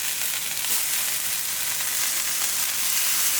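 Plantain slices frying in oil on a dosa pan over a slow flame, giving a continuous, close, bright sizzle with no pauses.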